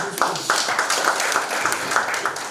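A large audience at a police handover ceremony breaks into dense, steady applause, loud and close, a continuous wash of overlapping claps.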